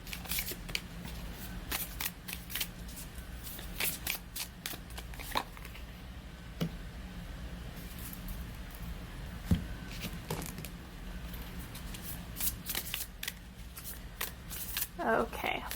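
Oracle cards are shuffled again and again close up, a soft steady riffling and flicking of card stock that goes on for the whole stretch with a few sharper taps in between.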